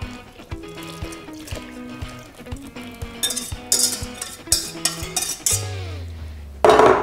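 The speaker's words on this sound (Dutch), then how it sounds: "Dan roer ik dat eerst door met de garde." A whisk beating cake batter with beer in a KitchenAid mixer bowl, rhythmic metallic clinks and scraping strokes up close, quickening into brighter splashy rattles toward the end.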